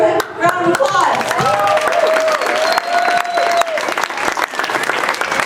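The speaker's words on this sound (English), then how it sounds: "Let's give her a round of applause." An audience at a Fort Lewis College Martin Luther King Jr. Day event breaks into loud sustained applause and clapping with some cheers, while a voice speaks over the crowd.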